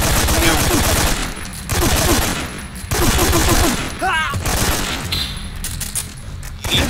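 A new rapid-firing weapon in Metal Gear Solid 3 lets loose in long, loud automatic bursts with clinking casings, broken by short gaps, while a voice talks faintly under the shooting.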